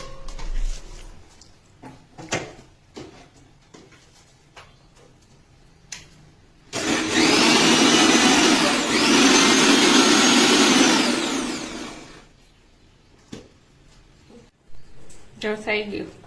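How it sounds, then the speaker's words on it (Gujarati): A kitchen mixer grinder purees spinach, coriander, green chilli and green garlic in one loud, steady whirring burst of about five seconds. Quiet talk and small handling clicks come before and after it. "બધું મિક્સરમાં નાખી અને સરસ પ્યુરી બનાવી લઈશું."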